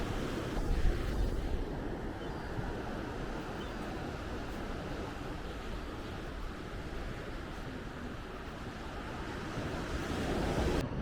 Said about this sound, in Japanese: 波の音聞きながらこの景色